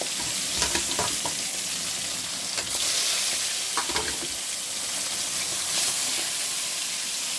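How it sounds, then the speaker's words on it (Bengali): Fish frying in hot oil, a continuous close sizzle and crackle with brief louder bursts of spitting now and then. "ভেজে নিচ্ছি তেল গরম হয়ে গেছে মাছ একসঙ্গে ভেজে নেব"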